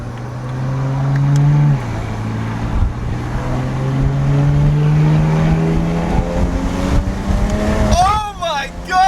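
Tuned BMW E92 coupe pulling hard under full throttle, a loud harmonic engine note climbing steadily through the revs, then a sharp shift and a quick wavering sweep near the end, with voices over the drone.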